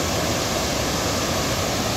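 The Narmada river at Bhedaghat, a steady, dense rush of flowing water filling the whole short stretch, loud and unbroken with no voices.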